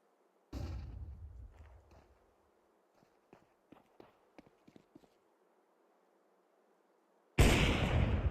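A flashbang grenade in Counter-Strike 2 goes off with a loud, sharp bang that rings out and decays over about a second, followed by quiet scattered footsteps, then another loud blast at the end.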